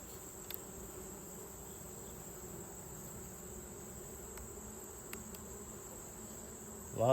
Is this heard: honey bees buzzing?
yes